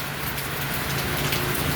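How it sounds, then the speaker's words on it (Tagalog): Heavy rain on Guimaras Island, a loud, dense and steady downpour hissing on surfaces close by, continuous throughout with no voices. "Ang lakas ng ulan dito sa"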